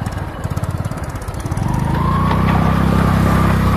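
A motorbike engine chugs loudly and close up, its pulsing putter steadying into a continuous droning rev as the bike pushes through floodwater on a badly damaged road under construction.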